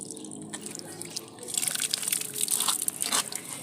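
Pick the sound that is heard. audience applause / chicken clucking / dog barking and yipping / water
water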